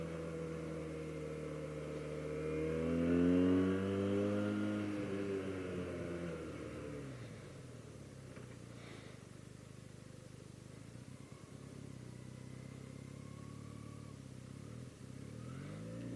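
Benelli 302S motorcycle engine revving up with a rising, sweeping harmonic tone that peaks and then settles back to a steady low idle, heard at moderate distance without talk.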